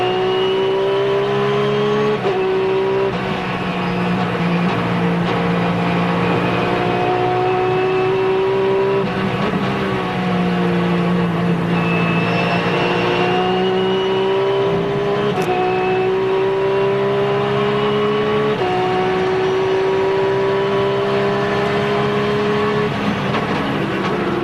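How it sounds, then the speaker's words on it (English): Race car engine heard from onboard while lapping the historic Watkins Glen circuit during a six-hour sports car endurance race, loud and continuous for the whole stretch, with pitch rising through gears and dropping on shifts and braking. "Some sounds of speed around this magnificent, historic Watkins Glen circuit."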